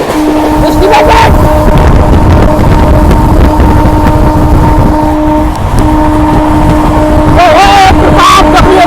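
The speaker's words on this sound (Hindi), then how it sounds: "पीछे से ओवरटेक करेगी रांची गरीब रथ" The Ranchi Garib Rath express overtakes on the adjacent track, heard from aboard another train as a loud, sustained roar of wheels and wind with long horn-like tones running throughout.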